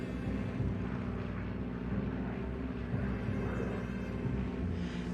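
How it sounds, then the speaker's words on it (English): C-47 transport plane engines drone steadily overhead for the whole stretch, a loud, continuous propeller rumble with no breaks and no voices. "By midday, C-47 planes were over Bastogne and started dropping their coveted supplies."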